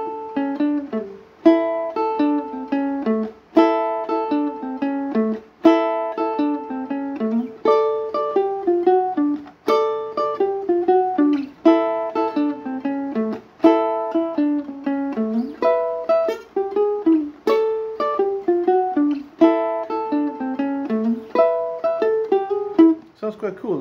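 Ukulele picking a bouncy 12-bar rock and roll riff, a steady run of plucked notes and double stops played close and clear, alone with no talking, for about 24 seconds.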